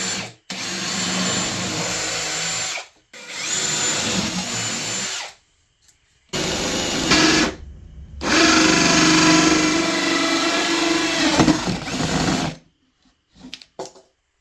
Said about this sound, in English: With the holes drilled per the template, the microwave installed nice and easily